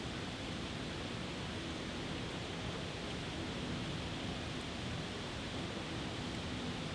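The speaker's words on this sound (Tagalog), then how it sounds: "Yung naririnig niyo po na ingay po, yun po yung waterfalls po." Steady broadband rush of an indoor waterfall in a shopping mall at Ayala Center, a constant even wash of falling water that holds at a moderate level throughout with no talk over it.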